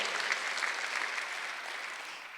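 A Sunday service congregation at a Korean church applauds as a dense, steady wash of many hands. It fills the room evenly and fades slightly toward the end, with no talking over it.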